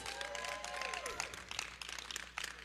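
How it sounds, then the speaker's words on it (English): An audience applauds Mary at a church women's ministry gathering, with moderate clapping under a sustained musical tone and faint voices. "we got to give Mary another round of applause"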